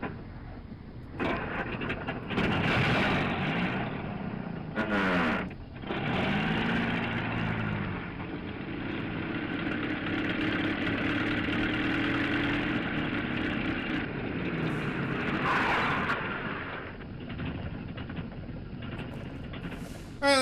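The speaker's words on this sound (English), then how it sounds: "The poor engine sounds terrible. Well, it is running on flamethrower fuel." Idling engine of a vehicle in Fallout: New Vegas, running on flamethrower fuel, drones steadily and loud throughout with a rough mid-low rumble, a few louder surges and clunks near the start.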